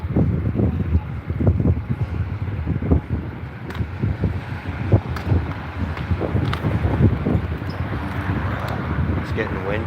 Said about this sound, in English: It's getting windy out there now.